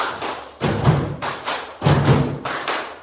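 Students in a class perform a rhythmic group clapping routine, several sharp, loud bursts of unified claps in a repeating pattern, each separated by brief pauses.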